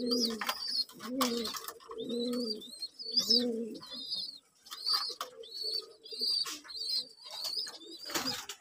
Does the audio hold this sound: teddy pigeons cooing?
yes